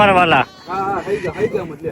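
Loud, close bleating of goats in a Kutch village, a long quavering cry followed by shorter calls, with people talking nearby.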